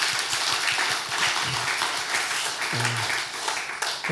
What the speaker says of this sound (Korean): 뜨거운 격려의 박수 한번 해주시죠